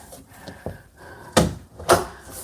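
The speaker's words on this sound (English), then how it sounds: "Make sure the door is closed." A door is pushed shut over a resistance band door anchor, giving two firm, close thumps about half a second apart after some quieter handling noise.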